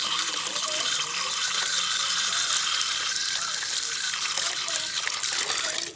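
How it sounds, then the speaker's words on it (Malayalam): Water pours steadily from a garden pipe onto vegetable plants such as bitter gourd in a home kitchen garden, a continuous close gushing splash lasting throughout with no pauses. "അപ്പോൾ എന്തായാലും നമുക്ക് വെള്ളം ഒഴിച്ചെടുക്കാം."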